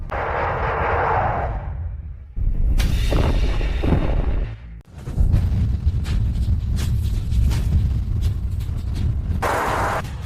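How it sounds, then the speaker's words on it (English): Missiles fired in rapid succession in a game, with loud booming launches and roaring bursts that come in clusters, a low rumbling wash filling the gaps between blasts. "System, fire all missiles."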